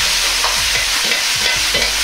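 Pork and bamboo shoots with sesame oil being stir-fried in a pan: a steady loud sizzle with repeated scraping tosses of the spatula, about three per second, and no voices.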